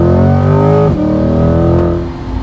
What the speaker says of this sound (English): just the acceleration of this car, it's pretty much breathtaking